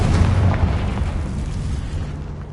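A Confringo blasting spell goes off in Hogwarts Legacy, a loud deep boom with rumbling low end that swells at the start and slowly fades over a couple of seconds.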